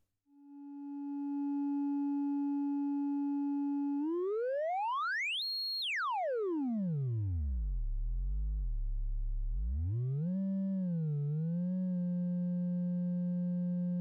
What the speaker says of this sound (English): Let's start by hearing the triangle output, and let's do a simple pitch sweep using the coarse and fine knobs.